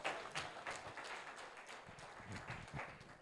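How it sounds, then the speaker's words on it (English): A convention audience gives a round of applause, producing faint, steady, distant clapping with rhythmic pulses throughout and no clear talk over it. "Please, another big round of applause."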